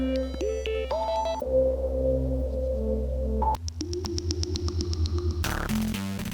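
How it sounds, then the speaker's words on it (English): A single complex synthesizer patch from an iPad music production app plays layered tonal notes, shifting pitches and rapid arpeggiated pulses, with a sudden buzzy textured change near the end, continuous and up front. "This is basically one synth, but it's so complex that it becomes"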